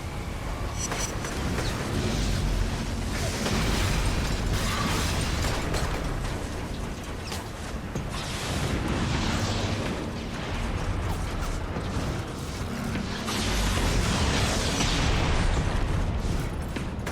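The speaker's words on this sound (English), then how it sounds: "I really just threw a grenade at him point blank" A grenade goes off at point-blank range in the inFAMOUS video game, loud booming bursts amid continuous dense game noise and rumble, with repeated swells of explosive energy across the stretch.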